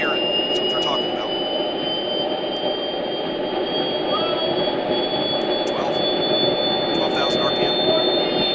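A jet-like engine runs loud and continuous, with a high whining tone that climbs steadily in pitch as RPM increases, and faint voices are heard underneath.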